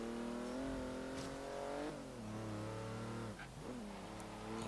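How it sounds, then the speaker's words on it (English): A BMW i8's 3-cylinder turbocharged engine in the video game Forza Horizon 3 hums steadily and rises in pitch, easing off around two seconds and revving again near the end, loud and close with no talk. "3-cylinder turbocharged engine, it doesn't sound bad at all."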